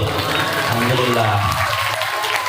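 Applause from the audience at an Islamic religious lecture, a burst of clapping mixed with a voice and room murmur, fairly close and loud across the brief stretch.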